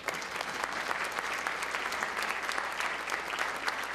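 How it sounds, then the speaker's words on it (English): A chamber luncheon audience at a county address breaks into sustained, dense applause, an even roar of many hands clapping throughout. "Give her another round of applause."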